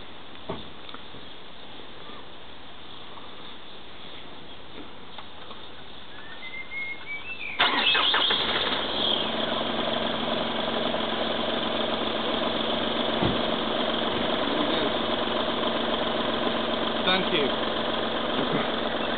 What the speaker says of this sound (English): I'm going to start the vehicle